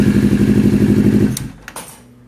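A CBR motorcycle engine idles with a loud, fast regular chug, then cuts off abruptly, followed by a couple of clicks and a faint hum.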